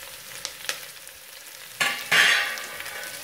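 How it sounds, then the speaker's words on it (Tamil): Onions with red and green bell peppers sautéing in a pan for a semolina kichdi biryani, with a few soft clinks of stirring, then a louder sizzle that swells midway and slowly eases, with no voices. "இந்த வெங்காயம் கொஞ்சம் நல்லா வதக்கட்டும்."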